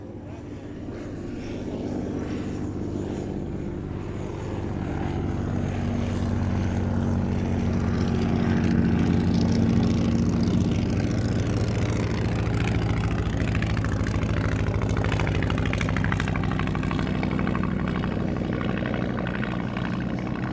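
Bristol F.2B biplane at an air show, its propeller engine droning steadily and loud throughout, the rumble swelling slightly after the first few seconds, with no talk over it.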